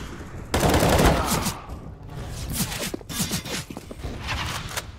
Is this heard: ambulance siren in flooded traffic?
no